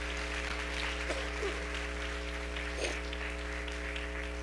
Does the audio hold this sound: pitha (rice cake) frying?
no